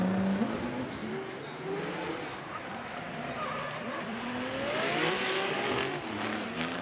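Drift cars battling at Formula Drift Japan, including Tetsuya Hibino in the chase, with a continuous roar of engines rising and falling in pitch and tire noise throughout. A voice speaks faintly beneath the engines.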